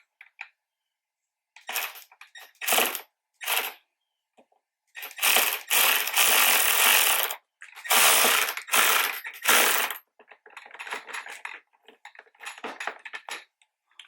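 Ratchet tightening plastic mud flap fasteners on a 2019-2021 RAV4, close-up bursts of quick clicking, some short and some sustained, separated by pauses, ending in lighter, scattered clicks.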